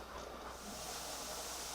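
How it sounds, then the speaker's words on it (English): Steady faint steam hiss from a pressure cooker venting while deer meat is being canned, continuous and unbroken with no talk. "It's starting to steam now, so we'll let it steam for 10 minutes to get all the air bubbles out."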